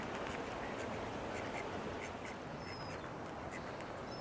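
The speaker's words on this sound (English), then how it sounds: "these are the call ducks." A dense chorus of call ducks quacking nonstop, many birds calling at once close by, loud and overlapping.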